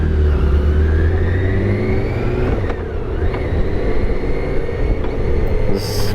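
A 2023 BMW K1600 GTL touring motorcycle on a demo ride accelerates with a smooth rising engine whine, loud and close, the pitch climbing steadily amid wind rush.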